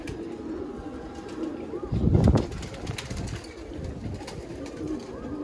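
Pigeons coo and rustle inside a fancier's loft, a steady low cooing chorus nearby, with a brief louder flurry of wing flapping in the middle.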